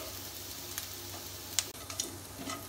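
Masala spices for a Kashmiri dry-fruit pulao being stirred and gently fried in a pan over a low flame, a soft steady sizzle with faint scraping stir clicks, quiet and close, no talking.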